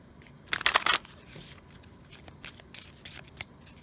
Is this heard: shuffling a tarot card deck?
yes